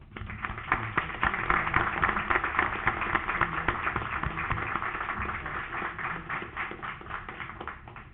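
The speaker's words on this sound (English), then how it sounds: "ladies and gentlemen, join me in a round of applause" Attendees at a city council meeting give a round of applause, a steady, muffled wash of many hands clapping at moderate volume that swells early and then slowly tapers.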